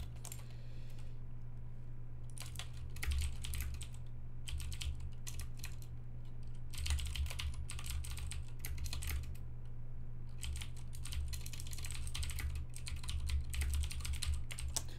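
Card details typed on a computer keyboard in quick bursts of close, crisp key clicks separated by short pauses, over a steady low electrical hum in a quiet room.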